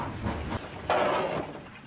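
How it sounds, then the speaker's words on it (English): A train of freight trucks rolls along rails in a Thomas & Friends scene, a steady rumbling clatter with a sudden louder swell of rolling noise midway. "Sir Handel went and found more trucks and added them to his train"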